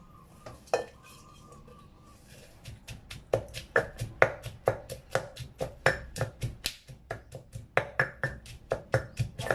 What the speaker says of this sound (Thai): การตำพริกไม่ต้องแหลกค่ะพอแล้ว